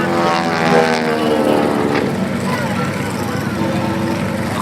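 A 6,000-pound propeller airplane at an air show makes a steady, loud engine and propeller drone that swells slightly as it passes low during aerobatic maneuvers.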